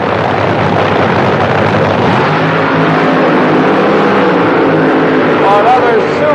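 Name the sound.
Blue Max Top Fuel Dragster run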